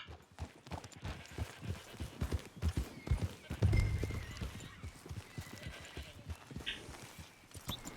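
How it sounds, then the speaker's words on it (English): Hooves clip-clop steadily at a walking pace in Red Dead Redemption 2, fairly soft and nearby, with a brief horse whinny partway through. "Can't help but notice I hear a horse."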